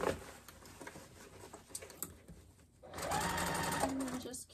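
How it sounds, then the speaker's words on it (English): A sewing machine backstitches over the handle piece of a fabric car trash can in a couple of short rapid bursts, separated by a pause, with someone speaking quietly in between. "backstitch over that again"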